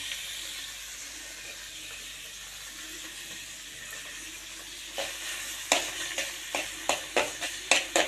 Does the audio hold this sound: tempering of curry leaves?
yes